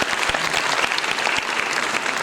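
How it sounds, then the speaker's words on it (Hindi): An audience at a classical dance festival applauds with steady, dense clapping that fills the hall, close and sustained throughout. "तालियों के साथ अभिनंदन।"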